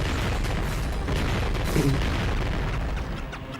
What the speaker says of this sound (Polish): tak drewno będzie, patrzcie jak to wybucha